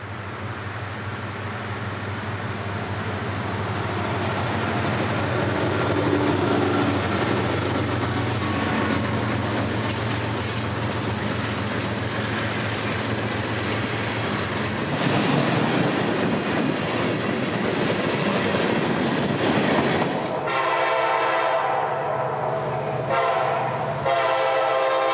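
A freight train hauled by EMD locomotives rumbles past at night with a long sustained horn blast over the engine drone and wheel clatter, the roar thinning to clacking cars near the end.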